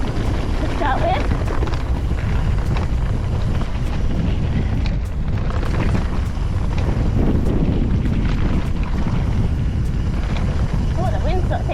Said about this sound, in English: the wind sort of takes your breath away